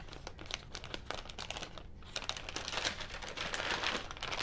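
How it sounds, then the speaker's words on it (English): Plastic wrapping on a day-three advent calendar package crinkles and crackles steadily throughout, close and fairly quiet, with no talking. "hopefully this is not too much crinkling"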